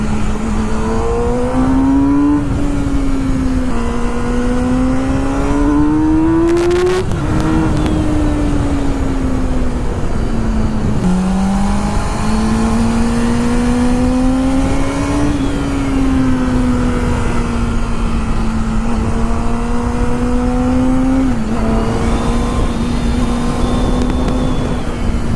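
A motorcycle engine revs hard and continuously during wheelies on a road ride, its pitch rising and falling with throttle changes and gear shifts, loud and steady with no talking.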